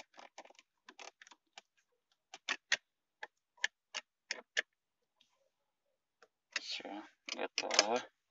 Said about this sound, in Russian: Сейчас нужно закрутить винты вот таким ключиком.